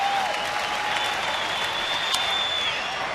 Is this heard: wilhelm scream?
no